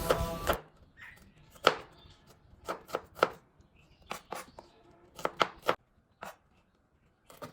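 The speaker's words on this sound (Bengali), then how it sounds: "এখন আমরা কেটে নিচ্ছি রান্নার জন্য পেঁয়াজ ও মরিচ" A knife chops onions and green chillies on a board in sharp, close strikes, some single and some in quick pairs or triplets, separated by short quiet gaps with no voices.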